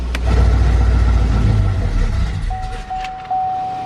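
A truck engine with a slightly off tune-up runs at a steady, loud, low rumble close by, easing off slightly near the end while a steady tone sounds alongside it.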